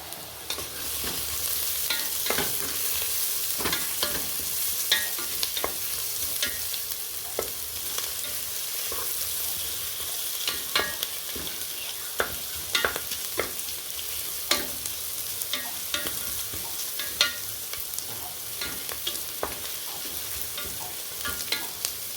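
Onions being fried and stirred for mutton biryani, a continuous close sizzle broken by repeated spatula scrapes against the pan, with no talk.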